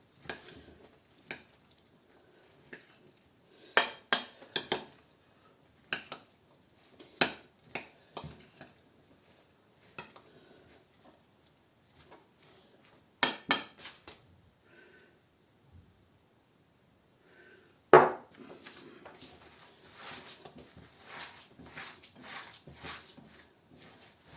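Meatball mixture stirred in a bowl gives scattered soft wet squelches and clicks in short bursts, some louder, separated by quiet gaps, with no speech.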